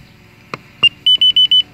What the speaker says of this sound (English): And something's beeping, but I don't know why.